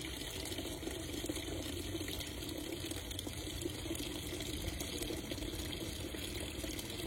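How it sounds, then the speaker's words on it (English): Water gushing hard from a tap in a steady, loud, continuous hiss and splash with no pauses, heard alone and close by. "All right, water is on. It's gushing quite a bit, actually."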